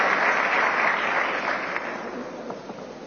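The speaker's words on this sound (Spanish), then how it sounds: "senhor Alejandro Domingues, convidamos para subir ao palco com muitos aplausos para dar uma palavra neste dia tão especial." An audience claps steadily and loudly in a hall during a football federation event, the dense applause continuing throughout and fading slightly toward the end.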